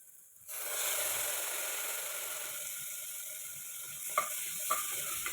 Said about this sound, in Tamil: எல்லாம் ஒன்றா வதங்கட்டும்